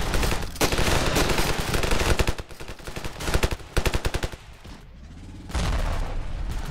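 Loud, dense gunfire in the Ravenfield video game, sustained machine-gun bursts with heavy booming shots layered on top, continuous and close with almost no gaps across the whole span.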